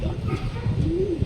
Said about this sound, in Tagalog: Kita ng naked eye natin yung mga kalapati dumadaan dito.